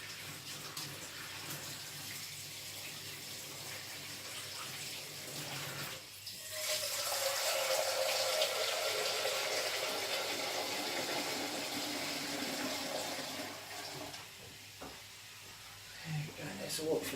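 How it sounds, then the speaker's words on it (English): Tap water runs steadily into a saucepan, filling it for pasta in a home kitchen, a loud continuous rush that swells midway and then tapers off near the end. "There's a water for the pasta."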